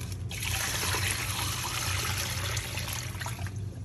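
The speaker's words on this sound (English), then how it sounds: "now I'm just going to add another 1/2 gallon of water" Steady filtered water pouring and splashing over a whole turkey in a filled brine container, continuous and close for several seconds.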